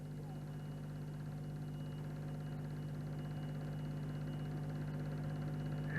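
Car engine running steadily at a 1970 New Zealand trials event in a quarry, a continuous low droning hum that grows slightly louder over the stretch, with no distinct revving peaks and faint background noise.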